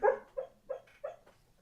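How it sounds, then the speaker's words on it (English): Dog whimpering in its sleep while dreaming, four soft, muffled yelps in an even rhythm, close and fairly faint. "Dang, he's having doggy dreams."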